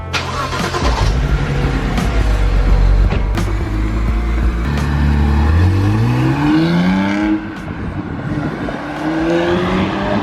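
A BMW N54 135i or 335i engine with a new chargepipe and tune revs hard up close, its pitch climbing in repeated surges over a loud, steady rumble, with no talking.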